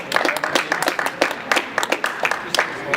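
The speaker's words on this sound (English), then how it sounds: "Give Coriel a round of applause" An audience claps for a student speaker at a debate event, a close, lively round of separate hand claps with some talk and crowd murmur mixed in.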